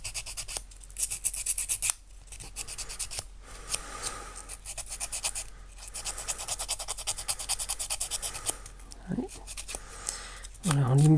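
Quick rasping strokes as irregular spots are filed on a handmade scrapbooking Christmas ornament, close and scratchy in short bursts, with someone talking over them.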